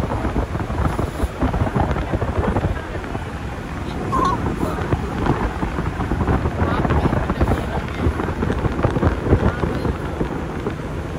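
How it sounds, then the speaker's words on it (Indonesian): Rain begins falling outdoors, a loud, continuous rushing patter with wind buffeting the microphone and no talking over it. "Sepertinya sudah mulai hujan."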